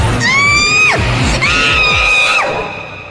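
A woman screams loudly twice in a row, each a long, high, piercing shriek that holds steady and then falls away, with nothing else heard between the two.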